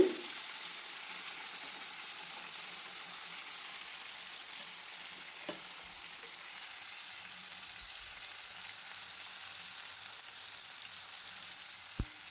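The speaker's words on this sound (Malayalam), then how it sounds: "ഒരു വശമായിട്ടുണ്ട്, ഞാനതിനെ തിരിച്ചിട്ട് കൊടുക്കുകയാണ്. ഈ ഭാഗവും നന്നായിട്ട് ഫ്രൈ ചെയ്തെടുക്കുക." Fish fries gently in a pan after being flipped, giving a faint, steady sizzle and hiss with a couple of small clicks from the pan.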